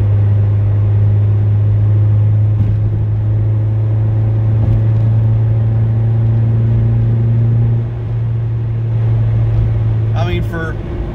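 Engine of a 1994 Acura Integra LS during a cold-weather drive, a steady loud drone with a strong low hum throughout, no voices heard.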